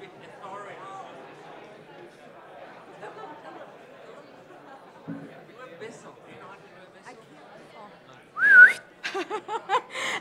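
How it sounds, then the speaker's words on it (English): A person gives a sharp whistle, followed by a few short repeated whistle bursts, cutting through the murmur of an audience chatting in a room while people make their way back to their seats. "I tried the whistle."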